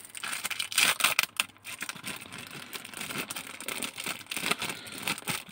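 A plastic bag holding the clear canopy and glazing parts of a Focke-Wulf Fw 190 A-8 scale model kit is torn open, giving close, irregular crinkling and tearing rustles that continue throughout.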